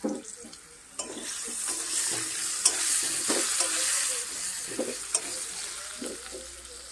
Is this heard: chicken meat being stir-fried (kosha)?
yes